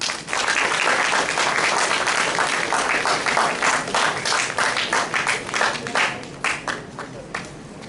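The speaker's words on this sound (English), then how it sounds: "Please join me in giving a warm round of applause." Sustained applause from an audience welcoming a speaker at an academic session, dense and loud at first, then thinning into scattered claps near the end.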